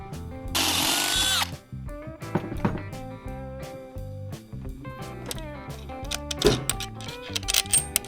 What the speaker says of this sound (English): I just got to drill out these fender washers to fit the bolts on the seat